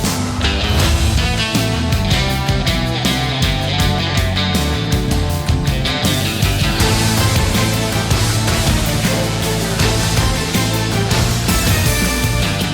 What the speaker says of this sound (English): it's a big brouhaha of a track full of bravado, big egos, and bigger guitar licks